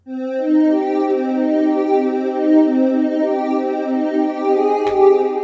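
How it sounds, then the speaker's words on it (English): Simple lead synth melody loop for a hip-hop beat, a steady, loud, bright tone holding a few sustained notes alone and up close, with a brief click near the end. "I'm just going to draw on a very simple synth here."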